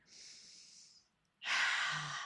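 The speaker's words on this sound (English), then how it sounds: "inhale through your nose for a count of 4, exhale through your mouth for a count of 6" Two slow, close breaths: a soft airy inhale through the nose, a pause, then a longer, stronger exhale.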